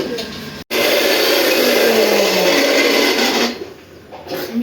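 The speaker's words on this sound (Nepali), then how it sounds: "अब चाहिँ हामीले सबै केराहरू चाहिँ पहिला मिक्स गर्छौँ यो लस्सीको लागि" An electric mixer blends bananas into lassi, making a loud steady whirring drone that runs for about four seconds after a short stop near the start, then dies down toward the end.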